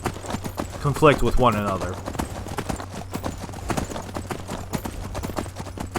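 Horse hooves clip-clopping in Skyrim, a steady rapid clatter of hoofbeats that runs throughout at moderate loudness, with someone talking over the first part.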